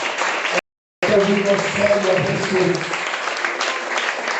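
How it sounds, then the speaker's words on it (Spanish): Applause from a church congregation, a dense, loud clapping wash after a brief cut to silence, with a voice calling out over the claps and spoken praise mixed in. "¿Alguien tiene un aplauso para el Señor en esta hora?"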